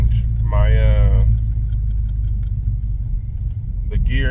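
An old boxy Chevy engine idles roughly with a loud, constant low rumble and uneven stuttering, while a person speaks briefly over it.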